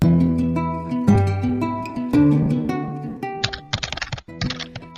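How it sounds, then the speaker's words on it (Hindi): Rapid clacking of typewriter keys over sustained music, the keystrokes growing busier and denser toward the end. "टाइपराइटर के बटन दबने की आवाज सुनाई दे रही थी।"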